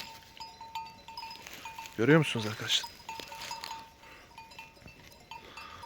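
A single sheep bleats briefly in a green field, one short wavering cry up close and loud, with someone speaking Turkish before and after it and quiet outdoor background.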